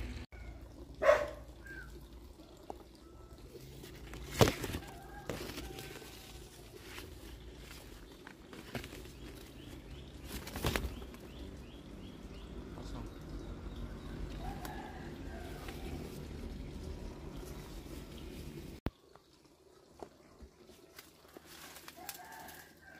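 Birds chirp and chickens cluck near rice fields in an outdoor rural setting, scattered calls rising now and then over a faint steady background, with a few louder knocks and handling thumps.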